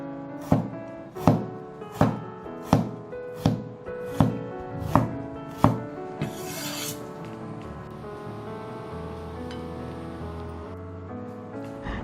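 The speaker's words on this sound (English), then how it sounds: "I am now cutting the cucumber into half lengthwise and then slicing each half into pieces diagonally." A knife chops through cucumber on a cutting board in eight or nine evenly spaced, crisp thuds, close and clear, followed by softer scraping and kitchen handling with no talking.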